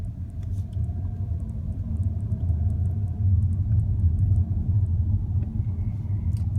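A 2017 Audi A4 2.0T Premium accelerates in comfort mode with a low, steady engine rumble heard from inside the cabin, swelling slightly as it picks up speed through smooth gear changes.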